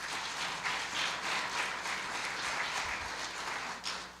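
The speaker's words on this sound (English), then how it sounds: "Let's give them a round of applause." A variety show audience breaks into steady applause, a dense wash of many hands clapping at moderate distance, continuous and fairly even throughout with no talk over it.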